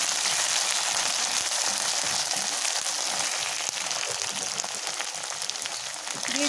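Onion with ginger and cumin paste sautés in a pan for a dried loitta fish bhuna, giving a steady, close sizzle that fills the whole stretch with no pause and no talk.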